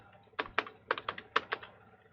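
Keys clack on a computer keyboard in a quick, uneven run of close, crisp taps, with short pauses between bursts, as an address is typed into a CV.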